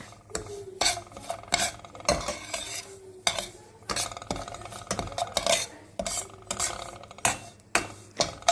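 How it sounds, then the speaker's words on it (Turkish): Two cups of semolina and 150 grams of butter roast together in a pan over very low heat, with a spoon scraping and stirring in repeated close, rhythmic strokes and no talking. "Önce 2 su bardağı irmikle 150 gram tereyağını birlikte çok kısık bir ocakta kavurmaya başladık."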